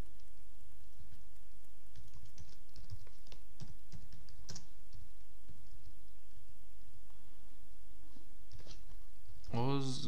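Typing on a computer keyboard while writing PHP code, quick irregular soft key clicks in a quiet room, with a brief louder noise near the end.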